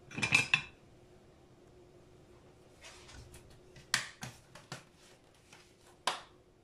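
A plate and cutlery clink while homemade mashed potato is served beside pork kidneys in white wine: a sharp clatter at the start, then scattered light taps and clinks at close range in a quiet kitchen.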